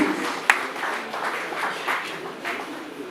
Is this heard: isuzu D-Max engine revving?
no